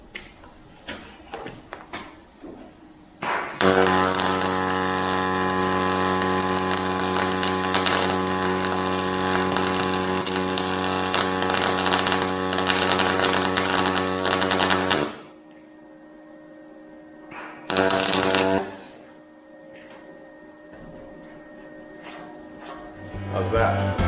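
Steel on a truck being welded with a slight back-and-forth weave: a loud, steady crackling buzz runs unbroken for about twelve seconds, then a brief second burst follows amid quieter shop noise.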